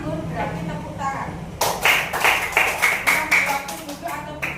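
Students in a fifth-grade classroom clap their hands in a short run of sharp, fairly loud claps, coming after a teacher's voice gives instructions.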